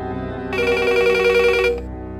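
A telephone bell rings loudly in one sustained burst lasting just over a second, set against a low background hum and with no speech.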